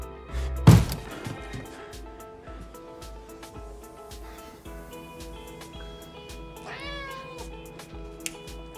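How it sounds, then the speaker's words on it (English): A cat meows several times, including a rising, wavering cry near the end, after a loud thump at the start; quiet background otherwise. "But it turned out to be a cat sneaking food."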